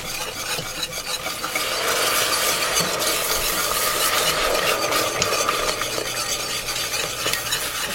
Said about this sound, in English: we're gonna start with some half and half. And you gotta keep stirring